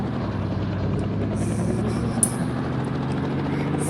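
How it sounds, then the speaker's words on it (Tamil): A helicopter in the Indian Bike 3D video game flies fast, a steady droning engine and rotor hum with a faint high whine rising over it and one brief bump. "ஹெலிகாப்டர் வந்து பயங்கர ஸ்பீடாக பறக்கும்"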